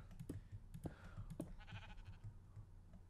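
A Minecraft sheep bleats faintly in a quiet game scene, a few soft, short calls mixed with light clicking from keyboard keys.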